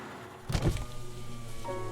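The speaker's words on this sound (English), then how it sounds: "The man rolled down the window and smiled at her" A car's power window rolling down, a short thunk followed by a steady motor whir lasting about a second and a half, close and alone.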